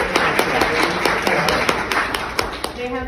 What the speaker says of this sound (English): Just a quick round of applause for our panelists.